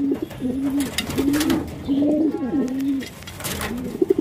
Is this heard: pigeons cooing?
yes